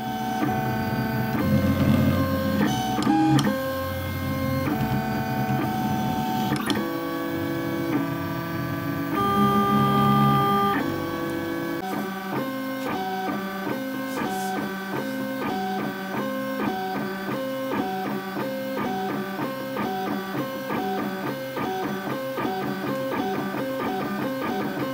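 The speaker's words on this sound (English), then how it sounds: "3D print a diffuser and some sort of mounting to put it into the chest" A 3D printer lays down clear PLA for a light diffuser and mounting parts, its stepper motors whining in shifting tonal patterns, busy and irregular at first, then settling into a steady repeating rhythm, close and continuous.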